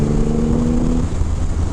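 Engine of a 2023 Triumph Rocket 3 GT, a 2500 cc motorcycle, heard close as a brief deep, rough rumble that holds steady and then drops in pitch, with no voices.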